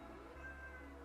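A cat gives one soft, faint meow, drawn out and close by, against a quiet low background hum.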